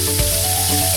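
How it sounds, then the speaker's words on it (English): Homemade paneer fries in a pan with a dense, loud, continuous sizzle and a faint steady hum beneath, close up and without voices. "That's why I'm frying a bit so that they will not"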